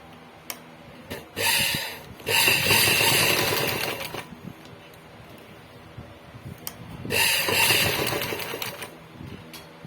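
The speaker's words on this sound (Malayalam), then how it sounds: "ഇപ്പം നമ്മൾ മിഷനെ തന്നെ തയ്ച്ചു പിടിപ്പിക്കുവാണ്." A sewing machine stitches a blouse in two bursts of rapid mechanical whirring and ticking. The bursts are separated by quieter handling clicks and a pause.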